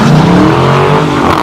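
A modded car pulls a handbrake turn at a Detroit car meet, its engine roaring and tires skidding in one loud, close, continuous burst.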